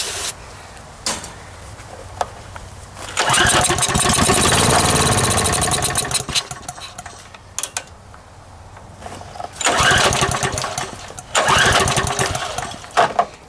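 A Harbor Freight small engine that sat unused for ten years is cold-started on choke. Several loud cranking bursts sputter and catch briefly, separated by quieter pauses.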